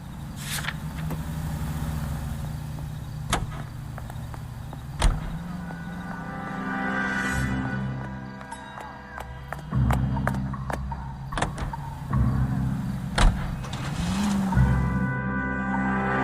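A car driven through the streets in L.A. Noire, a low steady engine rumble with shifting tone, scattered knocks and clicks, and no talk.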